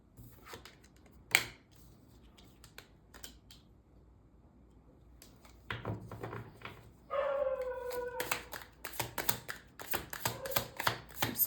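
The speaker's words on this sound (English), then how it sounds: "Sorry about the dogs." Dogs in a quiet room let out scattered barks and a few high whimpering whines, some near and some muffled, with light tapping and handling noises in between and no talking.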